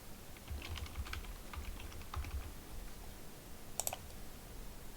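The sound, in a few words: typing Wi-Fi password on computer keyboard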